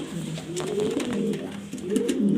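Red checker female pigeons coo in low, rolling, repeated calls, close by and fairly steady, with a faint rustle in the background.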